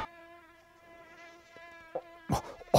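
A thin, high mosquito whine hovers close in a quiet bedroom at night, steady with slight pitch wavering, then is cut by a few sharp bumps and rustles near the end.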